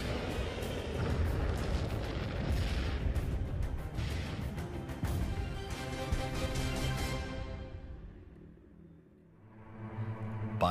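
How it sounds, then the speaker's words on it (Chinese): American warplanes bombing airfields and industrial sites in a 1944 air raid on Japanese-held Taiwan, a dense, continuous barrage of rumbling explosions and booms that fades briefly toward the end before rising again. "美军对日据之下的台湾开始空袭，各式战机轮番轰炸。"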